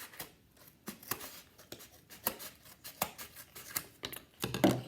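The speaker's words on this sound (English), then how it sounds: "And then I'm going to cut this little flap off here." Scissors cut a small flap off an egg carton, making a series of crisp snipping clicks in an irregular rhythm, close and fairly quiet, with a louder rustle near the end.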